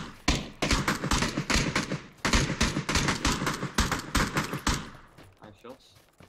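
Gunfire in the video game PUBG cracks out in rapid, loud bursts of shots with short gaps between volleys, then stops and fades into quiet near the end.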